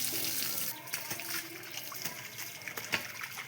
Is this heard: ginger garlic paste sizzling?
no